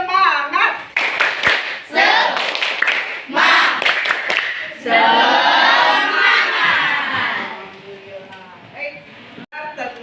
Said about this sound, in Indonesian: kita akan bertepuk semangat dulu ya